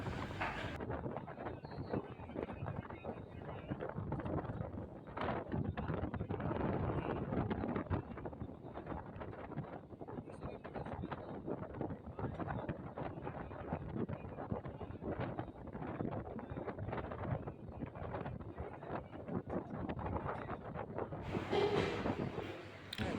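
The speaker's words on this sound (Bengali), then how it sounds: "ট্রেন এখন নিজের গতিতে ছুটে চলেছে" A local train on the Barasat–Hasnabad line, between Dum Dum and Hasnabad in North 24 Parganas, runs at speed with a loud, steady rumble and rattle mixed with buffeting wind noise, with no talk.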